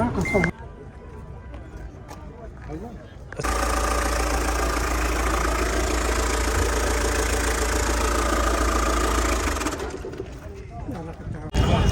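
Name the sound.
car engine idling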